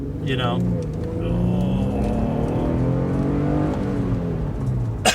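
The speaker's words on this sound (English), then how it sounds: "That first and second gear acceleration is something else" An Infiniti G37x coupe pulls hard through first and second gear, its engine note rising steadily under a driver's nearby speech, with a brief shift break midway.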